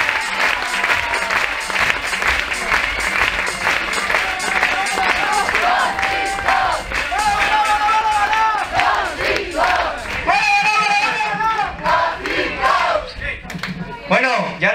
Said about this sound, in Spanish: Un buen aplauso para todos.